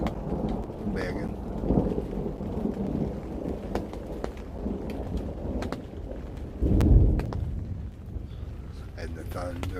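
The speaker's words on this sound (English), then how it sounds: "And the thunder rolls." Thunder rolls in deep, rumbling waves through steady rain and gusts of wind, with one heavy low crash late on, while people talk quietly under the storm.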